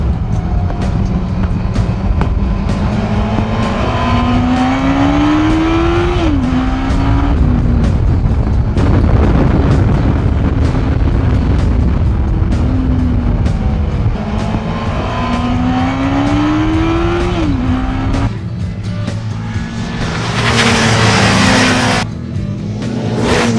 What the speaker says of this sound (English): as you can hear by the engine revs, times are getting better all the time.